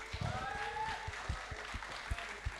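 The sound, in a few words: studio audience applauding guests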